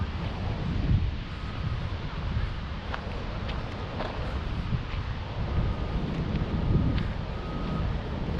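Strong wind buffets the microphone near Montmorency waterfall in Quebec, a steady loud rumble with gusty swells lasting throughout, under a broad roar of rushing air.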